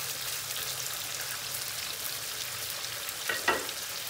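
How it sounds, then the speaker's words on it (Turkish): Chicken pieces sautéing in butter over high heat give a steady, loud sizzle and spatter throughout, with a brief clatter of the pan or utensil near the end. "Yüksek ateşte tavuklarımızı soteleme işlemine başladık."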